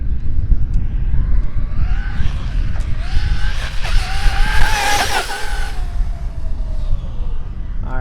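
A Traxxas Maxx 4S RC car on a park bash rushes past with a high, rising-then-falling electric motor whine, peaking loud at the midpoint over rough outdoor rumble and brief tire scrubbing.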